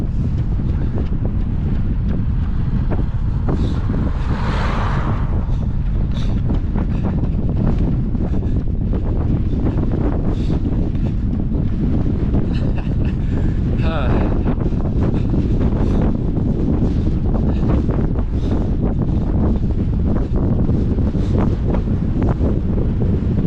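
Strong, constant wind roars across an exposed mountain pass in Wales, buffeting the microphone with a dense, unbroken rumble for the whole stretch and no voice heard.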